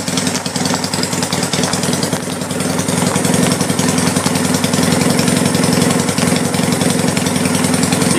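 A Honda CB200 motorcycle engine runs steadily at 1,200 RPM during strobe-light timing, giving a loud, close, continuous rumbling idle with a fast, even pulse and no talking.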